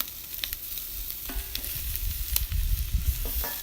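Chicken adobo sizzles on hot grill grates with a continuous crackling hiss, small pops and a few thuds as pieces settle, near and moderately loud.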